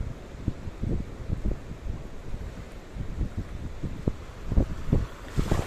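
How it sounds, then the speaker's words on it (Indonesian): Sea waves slap and surge around a small boat, uneven bursts of splashing and thumping against the hull mixed with gusty wind buffeting the microphone, building louder toward the end. "ada waktunya ombaknya pelan ya, kemudian tiba-tiba menjadi besar"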